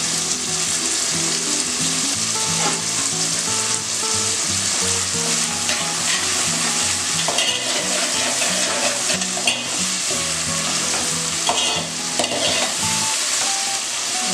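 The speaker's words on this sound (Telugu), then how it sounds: "వేగుతుందండి. కొంచెం కరివేపాకు వేస్తున్నాను." Curry leaves fry in hot oil for the tempering of a Nellore fish curry, a loud, dense, unbroken sizzle with light stirring, and background music beneath it throughout.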